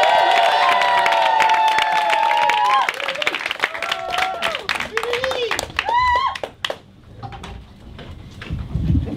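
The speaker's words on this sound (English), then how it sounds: "let's give a big round of applause for Luca" Audience at a stand-up comedy show applauds and cheers as a comedian is welcomed, with loud clapping and whoops for about three seconds, then fading into scattered shouts and crowd noise under talk.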